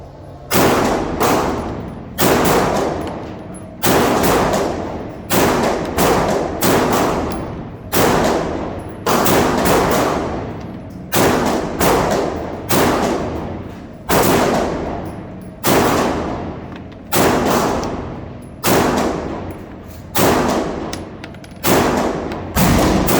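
Rapid strings of 9mm shots from a Smith & Wesson M&P 2.0 Metal Competitor pistol at a target range, loud sharp reports fired in quick bursts with brief pauses between groups, no talking.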